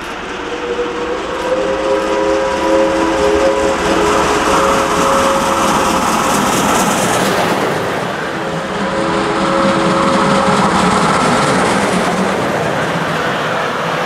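Steam locomotive 01 2118 hauls a full train at a Dresden steam locomotive meeting, a loud, steady rolling roar with rail clatter and sustained whistle-like tones, continuous throughout with no talk.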